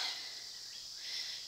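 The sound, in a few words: grasshoppers in a wood pile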